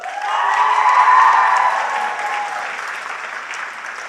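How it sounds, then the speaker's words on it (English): A crowd at a Northeastern University cultural event breaks into loud sustained clapping and some cheering. The applause swells quickly and then fades slowly over a few seconds. "Again, a huge round of applause"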